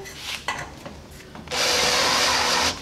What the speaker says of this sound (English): just gonna chamfer these edges a little bit with my chamfering tool.